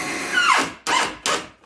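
Phillips screws are driven into a wall with a power drill: three bursts of motor whine, the first longer and falling in pitch as the screw seats, then two short close bursts with brief pauses between.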